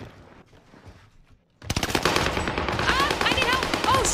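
Rapid automatic gunfire bursts out suddenly in a first-person shooter video game after a quiet, muffled stretch, then continues as dense, loud chatter of shots with sharp ricochet-like pings.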